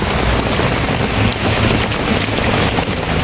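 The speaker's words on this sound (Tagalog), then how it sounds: "Ayan, malakas ang ulan." Heavy rain roars in a loud, unbroken wash of noise, with wind buffeting the microphone throughout.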